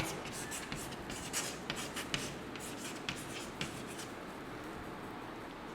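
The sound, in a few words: writing a seven-digit number by hand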